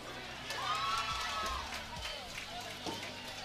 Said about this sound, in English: Just heard a loud cheer from the Lady Knights.